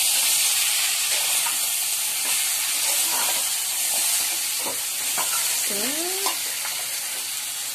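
Bhetki fish bones fry with spices in a pan, a loud continuous close sizzle and hiss with occasional stirring scrapes, no speech over it.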